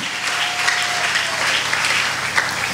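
A church congregation applauding in praise of the Lord during a deliverance service, steady, moderately loud clapping from many hands that fills the room, with no speech.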